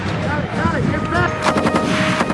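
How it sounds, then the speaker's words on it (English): A Belgian-made FN MAG 58 general-purpose machine gun firing 7.62 mm rounds in loud rapid bursts, sharp cracks repeating quickly, with a voice talking over parts of the firing. "the Belgian-made Mitrailleuse de Puits Général, better known as the Mag 58"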